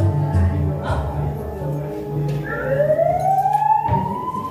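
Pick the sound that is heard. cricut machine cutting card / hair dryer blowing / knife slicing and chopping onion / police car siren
police car siren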